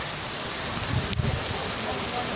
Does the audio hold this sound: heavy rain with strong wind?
yes